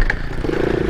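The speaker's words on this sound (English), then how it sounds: "Bike almost stalled out." A pit bike engine sputters and chugs close by, loud and uneven as it nearly stalls, its idle dropping into a low, irregular putter.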